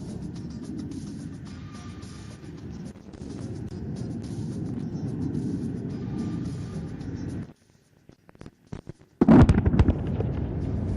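A military air exercise in which bombs strike enemy weapon stores: a sustained low roaring rumble, a sudden drop to near silence, then a loud, sharp detonation burst followed by renewed heavy rumbling.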